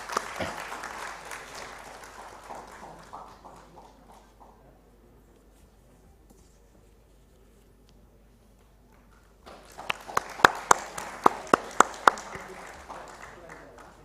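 Applause from the audience at a youth environmental conclave and award ceremony, sustained and fairly soft at first, fading nearly to quiet, then returning louder with sharp individual claps up close.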